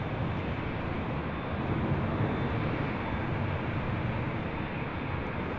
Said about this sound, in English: This is WestJet 1514 coming in from Calgary on a Max 8.